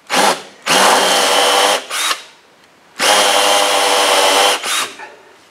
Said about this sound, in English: And here I'm countersinking with enough depth to fit a bung.